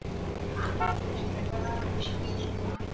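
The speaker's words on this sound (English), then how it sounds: "I heard like a honk" Car horn honking inside the Fortnite video game, short toot-like tones sounding over steady in-game engine and road noise, with a brief sharper sound near the end.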